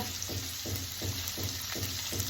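Onions and capsicum frying in a pan for pasta, a steady close sizzle with a regular pulsing rhythm as the pieces are stirred, no voices.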